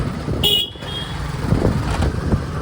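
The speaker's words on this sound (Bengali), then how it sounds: "আমি বাইক চালাচ্ছি" Road traffic noise with a motorbike engine rumbling steadily while riding, a brief high horn toot early on, continuous wind and motor hum throughout.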